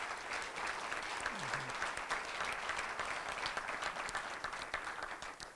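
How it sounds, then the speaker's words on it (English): An audience at a mayoral debate in Harrisburg applauds, sustained, even clapping from a crowded room that holds steady and tapers slightly at the end. "So a round of applause for them."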